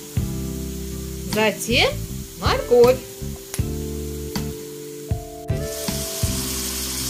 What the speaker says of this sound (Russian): смесь сливочного и растительного масла. И в первую очередь поджариваем лук.